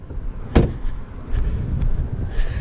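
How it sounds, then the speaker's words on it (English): A single sharp metallic clunk marks the release of the hood latch on a Mercedes CLA 45 AMG, close and loud, followed by faint rustling and small knocks. "underneath here is the hood latch"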